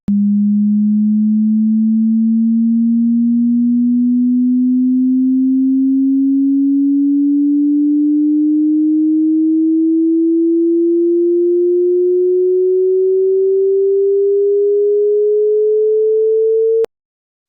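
A pure, steady test tone slowly rises in pitch from low to higher over about seventeen seconds, held at a constant loud level and heard alone before cutting off abruptly.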